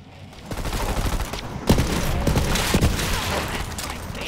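Borderlands 3 guns fire in a busy exchange, with several sharp reports over a continuous roar of game combat.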